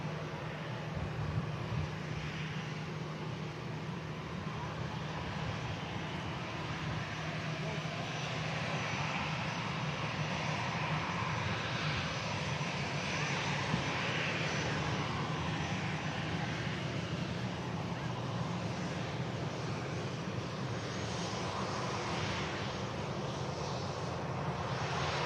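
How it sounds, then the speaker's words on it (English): EasyJet airliner rolling out after touchdown at Manchester Airport and turning off onto a rapid-exit taxiway, a steady, continuous broadband engine roar at moderate distance, with no voices. "And the EasyJet that's just touched down, about to vacate"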